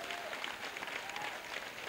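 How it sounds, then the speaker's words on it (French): Church congregation at a praise and thanksgiving festival applauding Jesus, a brief wash of dense clapping from many people, faint and evenly sustained. "Acclamation à Jésus."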